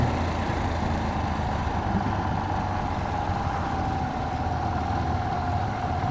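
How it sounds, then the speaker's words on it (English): Single-cylinder engine of a 2014 KTM 690 Duke motorcycle engine braking while slowing for a school zone, a steady close rumbling drone with wind noise, no talk over it. "Engine braking."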